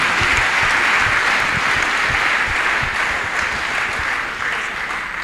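A church congregation bursts into loud, sustained applause to acclaim Jesus Christ at a healing testimony service, a dense wash of clapping filling the space throughout.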